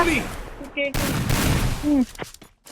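Gunfire rattles in a shooting video game, with short bursts of shots mixed in with bits of game effects and voices talking over it.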